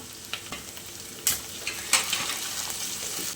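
Sliced onion, slit green chilies and curry leaves fry quietly in a pan, a soft steady sizzle broken by a few sharp stirring clicks and scrapes.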